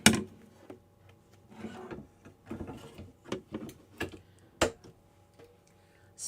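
An embroidery machine stitches out an in-the-hoop circle coin purse, giving a close, busy run of irregular ticking and clacking needle strikes with a few sharper knocks.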